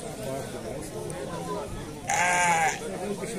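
Sheep and goats bleat loudly partway through at a sheep fair in Alagoas, Brazil, a drawn-out wavering cry rising over ongoing chatter and background talk.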